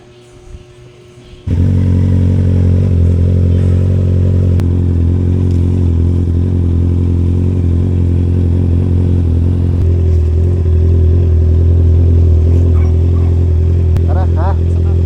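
A Honda CBR 650 sport motorcycle starts up after a quiet moment, then holds a loud, close, steady engine drone while being ridden, with slight changes in pitch.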